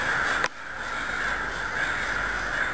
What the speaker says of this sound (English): the crows spread out in small groups to forage for food